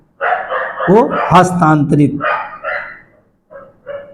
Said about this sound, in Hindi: कुत्ते बहुत भौंक रहे हैं भाई आज।